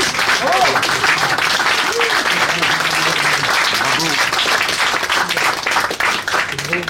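Applause and clapping fill a café during a campaign meeting for Valérie Pécresse in Paris's 16th arrondissement, steady and loud from start to finish, with voices talking and calling out beneath the clapping.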